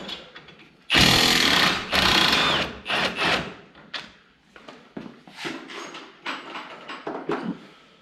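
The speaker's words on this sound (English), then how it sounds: "So I'm just gonna pop them loose. I'm gonna get them loose, and then I'll pull that caliper off." A power tool on a Polaris XP loosening its brake caliper bolts, loud sharp bursts of buzzing rattle at close range, the first two long and the rest shorter and choppier with pauses between.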